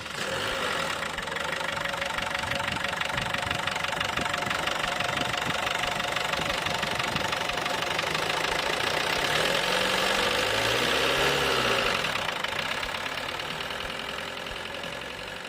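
A Renault 9 GTD diesel engine runs steadily with a loud, clattering, tractor-like knock. It holds a near, even idle throughout, with a slight rise and fall in pitch near the end.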